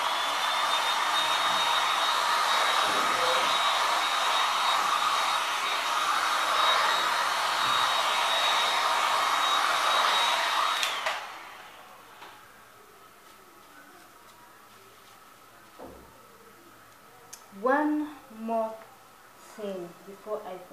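A hair dryer blows across an acrylic paint pour on a 40x80 cm canvas, a loud, steady whirring hum for about eleven seconds before cutting off, followed by near quiet and then brief voices.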